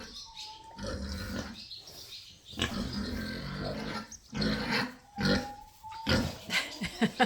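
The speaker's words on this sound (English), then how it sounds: "We'll go in and give the pigs some treats." Several pigs grunt, snuffle and squeal nearby as they are fed carrots. The bursts are irregular and close, with a couple of thin squeaky cries, and no one speaks.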